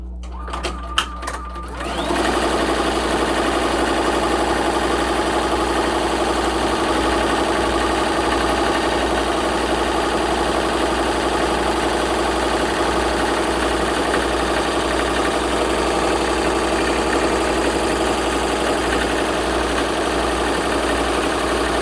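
A Tajima multi-needle embroidery machine runs an applique tack-down stitch, a loud steady mechanical hum with fast rhythmic needle chatter that starts after a brief moment of handling noise and continues unbroken.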